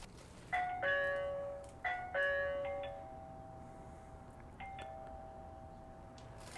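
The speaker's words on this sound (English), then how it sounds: "Here's what it sounds like when you hit the doorbell." An X-Sense smart video doorbell chime rings indoors: two bright, ringing two-note chimes in quick succession, then a third softer tone that lingers and fades, with no talking.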